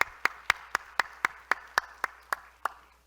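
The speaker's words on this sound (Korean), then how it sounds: "박수로 뜨겁게 환영하겠습니다." A church congregation claps to welcome new members standing during a Korean worship service. About a dozen even, evenly spaced claps sound in a steady rhythm, fairly faint, with little else around them.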